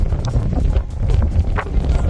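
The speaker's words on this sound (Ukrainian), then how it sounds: "вітер, дощ, холодно" Strong wind with rain buffets the microphone in a cold field in Elitne, Ukraine, with a constant low rumble and gusty thumps, loud and unbroken throughout.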